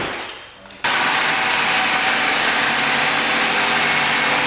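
A BMW E39 Touring engine with coated injectors cranks briefly, then catches and settles into a steady, loud idle that holds alone without talk.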